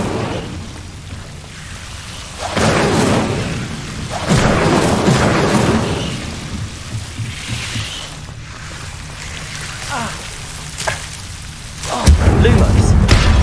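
Fire spell cast in Hogwarts Legacy, a few loud whooshing bursts of flame over a low game ambience, the last swelling into a heavy rumble, with a voice speaking between casts.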